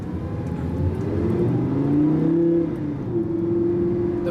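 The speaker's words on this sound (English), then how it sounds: "once these valves open and the car becomes a lot more shouty and sporty" Lamborghini Gallardo in sport mode with exhaust valves open, its engine revving and rising in pitch, a loud steady drone swelling and holding without talk.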